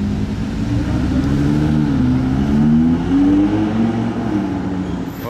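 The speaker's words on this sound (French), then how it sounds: "Ah, la 812 bleue qui repasse." A blue Ferrari 812 drives past on a street in Monaco, its engine note rising and falling in a loud, sustained whine that swells near the middle and eases toward the end, with no talk over it.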